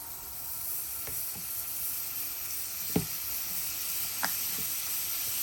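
Half a portion of butter melting in a well-used tawa pan, giving a steady soft sizzle and hiss with a few faint pops and ticks, close and unaccompanied by talk.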